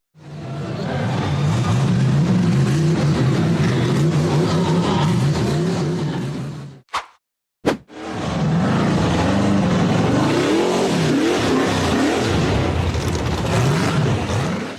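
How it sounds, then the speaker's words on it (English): A blue off-road buggy climbs a rocky dirt slope in a forest, its engine roaring loud and close at high revs. The sound cuts out briefly for about a second, then the revving resumes, rising and wavering. "The blue buggy accelerated hard up the rocky dirt slope in the forest"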